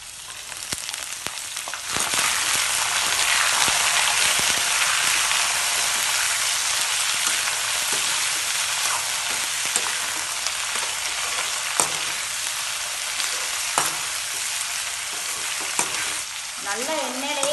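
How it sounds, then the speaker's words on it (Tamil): Pirandai (adamant creeper) with garlic and curry leaves sautéing in hot oil, a steady bright sizzle and crackle with scattered pops and stirring scrapes, close and continuous. "நல்லா எண்ணெயிலேயே வதக்கணும்."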